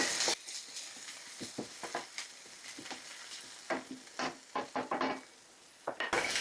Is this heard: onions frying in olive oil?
yes